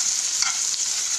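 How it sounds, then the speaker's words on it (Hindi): Peas fry in hot oil in a pan, giving a steady, close, hissing sizzle throughout with a faint stir partway through. "आवाज़ भी कुछ अच्छी आ रही है मटर फ्राई करने की।"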